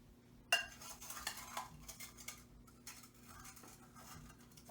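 Frozen pineapple chunks dropped into a blender jar as the first smoothie ingredient, giving a sharp clatter followed by a string of lighter knocks and rattles that gradually settle. Nobody speaks.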